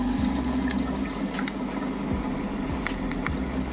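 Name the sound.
water pump running in homemade cooler, water flowing under pressure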